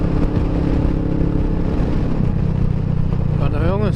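A Kawasaki Vulcan S motorcycle rides along a road in Derbyshire with a loud, steady engine drone and wind roar that shift in pitch as it changes speed near the end.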